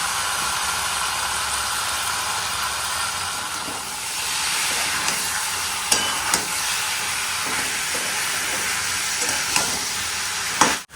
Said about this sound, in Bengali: মশলাটাকে একটু কষিয়ে আমরা চিংড়ি মাছগুলো দিয়ে দেবো